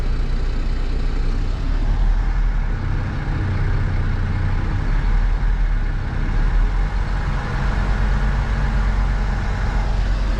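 A truck's diesel engine runs at a steady, slightly raised idle as the gas is pressed lightly to build air brake pressure, a continuous low rumble close by with no talking.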